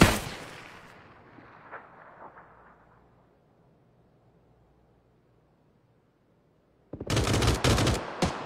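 Rifle gunfire in the video game PUBG: a fading tail of an earlier blast dies into near silence, then a loud, dense burst of rapid shots erupts close by for the final second and a half.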